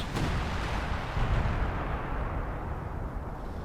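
British artillery fire in the real-time strategy game Company of Heroes 2, a dense, continuous rumble of distant shelling and blasts with a sharper crack at the start, loud and sustained with no voices.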